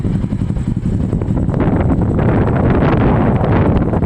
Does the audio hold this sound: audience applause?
no